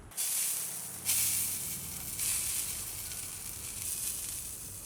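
A ribeye steak, Buffalo style, sizzles on a PK grill over burning mesquite, giving a loud, continuous hiss with small surges and no voices.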